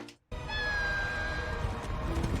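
A single drawn-out, mewing cry like a small cat's meow, voiced as a young lion cub's attempt at a roar in The Lion King (2019), rising suddenly out of a brief silence and holding close and steady for about two seconds.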